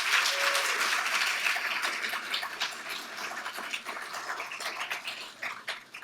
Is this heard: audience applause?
yes